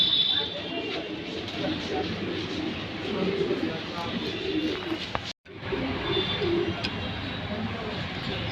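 Racing pigeons in a flying loft keep up a constant murmur of cooing, close and steady, broken by one brief dropout near the middle.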